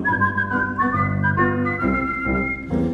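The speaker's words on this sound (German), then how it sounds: "dein Pfeifen macht Spaß" Melodic whistling carries a lilting tune in a song, clear and close, with smooth pitch glides and held notes over soft accompaniment and no voices.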